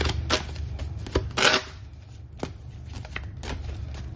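A deck of tarot or oracle cards is shuffled by hand, giving scattered soft riffles and sharp taps close by, with no talk.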